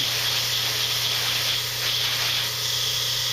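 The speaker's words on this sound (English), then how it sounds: "As I'm spraying, I'm looking for a reflection in my paint." Steady airbrush spray hisses continuously as paint goes onto a Gunpla MG Sazabi model kit, a close, loud, even rush with a low electrical hum beneath and no pauses.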